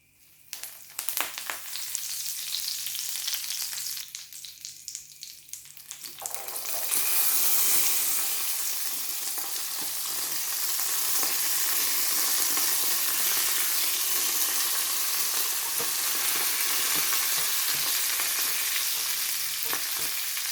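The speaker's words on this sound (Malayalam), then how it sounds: "പിന്നെ ബാക്കി എല്ലാ വെജിറ്റബിൾസും കൂടി ഇടാം." Carrots, beans, onion, green chillies and curry leaves go into hot oil for upma with a sudden loud sizzle. A steady, close frying hiss follows, broken by occasional scraping stir sounds, and no one speaks.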